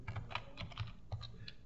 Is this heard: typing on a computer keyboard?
yes